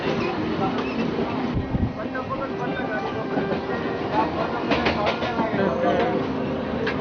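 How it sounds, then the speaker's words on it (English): A Mumbai suburban train sets off from a station, its rumble and clattering wheels building steadily under ongoing talk, with clicking rail joints growing more distinct toward the end. "The train starts."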